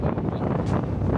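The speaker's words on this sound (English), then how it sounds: "It's so windy up top," Strong wind buffets the microphone on a Patagonia hilltop during a hike, a loud continuous low roar with gusting rumble and no break for the whole moment.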